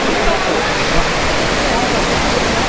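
Water pours steadily from a spring at the Japali Hanuman temple in Tirumala, a dense, continuous rushing splash that fills the whole stretch evenly and close by.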